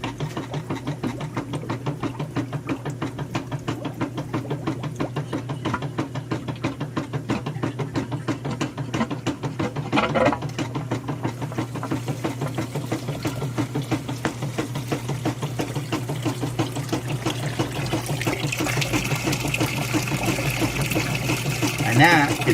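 A rebuilt wet-end water pump runs after being plugged in beside a sink, giving a steady mechanical hum and rapid buzzing rattle with water trickling over it, continuous for the whole stretch and loudest near the end.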